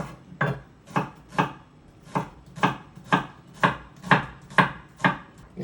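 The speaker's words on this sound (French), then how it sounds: "émincer mon échalote" A knife chops a shallot on a cutting board in a home kitchen, about eleven crisp, evenly spaced strokes close up with no talking.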